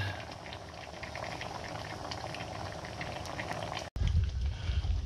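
Sinigang fish soup boiling in a pot, a continuous close bubbling and simmering with a brief cut followed by louder, lower rumbling bubbles.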